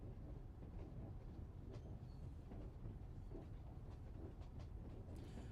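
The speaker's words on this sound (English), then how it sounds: "Paimon was scared stiff when the train started moving" A moving train in the video game Genshin Impact gives off a steady, dense rumble with faint clattering ticks running through it, holding an even loudness throughout and with no one speaking.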